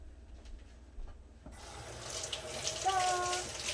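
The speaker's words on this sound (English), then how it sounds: "And then rinse for the same reason that I rinsed the potatoes." A kitchen water tap turns on partway through and runs steadily with a splashing hiss into a sink during rinsing, starting after a quiet lead-in and growing fuller toward the end.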